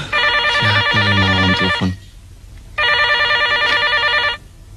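An old-style telephone bell rings loudly in an old Indonesian film, sounding in two long bursts with a short gap between them and no talking.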